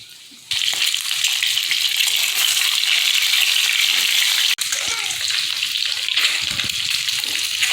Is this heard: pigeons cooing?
no